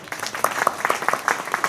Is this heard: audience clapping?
yes